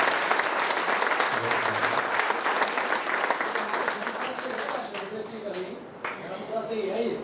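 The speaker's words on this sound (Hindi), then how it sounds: "सौर्य भाई के साथ एक बार ताली बजाएंगे" Dense crowd applause at an honour ceremony in Bahadurgarh for newly qualified UPSC candidates, loud and steady at first and then thinning out as a voice comes in over it.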